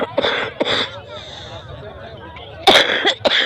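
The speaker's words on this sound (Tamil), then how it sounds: "சும்மாவே இருமல்" Two sharp coughs near the start, then a low murmur, followed by two more loud, harsh coughs near the end.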